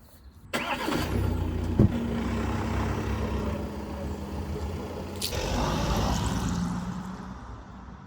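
An Audi Q5 Sportback engine starts with a sudden burst and settles into a steady, fairly loud mid-pitched running drone. A brief knock and a second surge follow.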